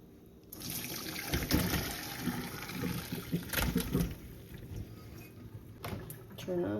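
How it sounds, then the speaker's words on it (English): Boiling water poured off chicken wings from a pot into a sink, a steady splashing gush that runs for several seconds over a running tap, with a person talking nearby. "I can lift this off and pour off the water."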